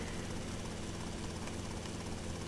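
A helicopter in GTA: Vice City flies with a steady, dense rotor and engine drone that holds constant and fairly loud, with no talk over it.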